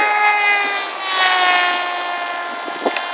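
A radio-controlled Assassin model airplane drones steadily overhead, its high propeller whine sliding gently in pitch as it passes, loud and continuous with a brief click near the end.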